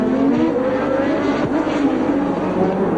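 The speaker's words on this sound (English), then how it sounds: "Arnoux misses again, he accelerates past" A 1983 Formula 1 race car roars past as it accelerates, a loud, sustained, high-revving engine tone with rising pitch amid trackside ambience, close and continuous throughout.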